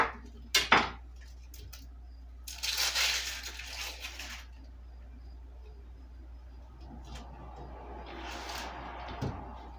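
A knife works through food for a roast dinner in a home kitchen, with a few sharp clicks of cutlery, a scraping crunch, then quieter chopping and handling against a steady low hum; no speech.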